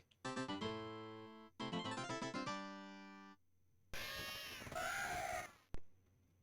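Bird cries from the video game Wizardry 7, two harsh harmonic squawks followed by a longer raspy screech and a short sharp cry, loud and isolated.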